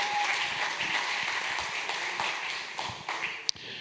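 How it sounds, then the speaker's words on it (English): A conference audience gives a speaker a round of applause. The clapping is soft and fairly distant, stays steady, then thins out, with one sharp tap near the end. "So let's give it a round of applause for Mark."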